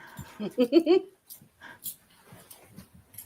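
A dog whimpers in a few high, close whines near the start, then falls quiet beneath soft rustling and faint breaths.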